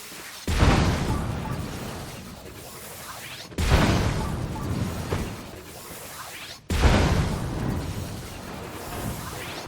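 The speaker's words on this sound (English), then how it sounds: "The cannon fires into this chamber to provide thrust, while this cart prevents the explosion from damaging Link." Three heavy cannon blasts in The Legend of Zelda: Tears of the Kingdom boom at regular intervals, each a sudden crash followed by a long rumbling decay, loud and close.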